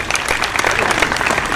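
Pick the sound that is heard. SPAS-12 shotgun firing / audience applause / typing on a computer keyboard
audience applause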